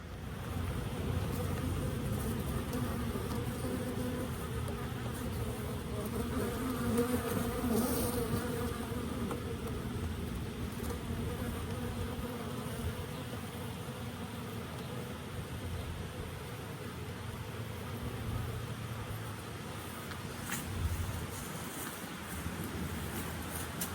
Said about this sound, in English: Looks like the swarm is finally moving in.